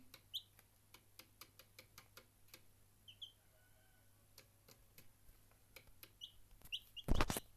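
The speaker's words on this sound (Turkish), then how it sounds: "iki tane civciv çok sevimli değiller mi arkadaşlar?" Two baby chicks peep in short, high chirps scattered over quiet background clicks and ticks, ending in a brief loud rustle.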